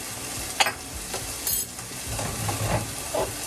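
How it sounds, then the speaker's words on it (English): Garlic and ginger sizzle in a hot pan for a quick peanut butter noodle dish, with a soft steady hiss, occasional stirring scrapes and a light utensil clink, close and without talking. "our garlic and ginger, we don't really need to cook all that much"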